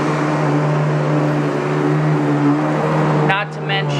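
A Fantom Capture Machine cyclonic vacuum cleaner runs steadily with a loud, constant motor drone and whine, its tone shifting and dipping briefly near the end.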